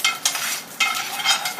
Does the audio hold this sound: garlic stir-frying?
yes